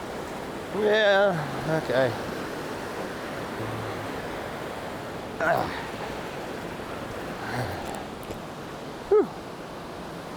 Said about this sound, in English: A lot of noise from this rushing water.